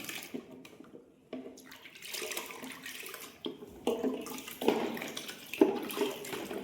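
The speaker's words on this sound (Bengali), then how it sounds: "এই জলটা আবার পটাকে আরেকবার ধুয়ে নিচ্ছি আমরা" Water sloshes and splashes as a paint pot is rinsed out while an airless paint machine, a Graco GX19, is being cleaned, in uneven close pours and swirls with no one talking.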